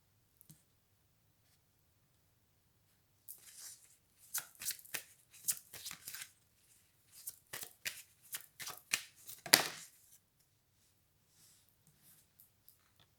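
A deck of cards is shuffled close by in a quiet room: several quick riffles and crisp flicks in short bursts, with brief pauses between them.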